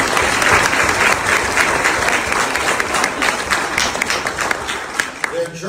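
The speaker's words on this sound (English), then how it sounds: "Give them a big round of applause." Loud, dense crowd applause honoring the 2009 RL soccer team, a steady wash of many hands clapping close by for several seconds, with a cheer or voice rising briefly near the end.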